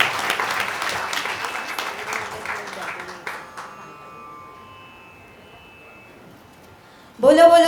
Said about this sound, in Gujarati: એકવાર પેલા જોરદાર તાળીઓ થઈ જાય.